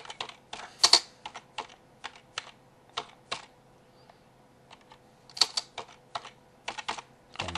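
Fingers tapping out a script on a computer keyboard in Windows, with quick irregular keystrokes close up, clustered in bursts with brief pauses and no talk.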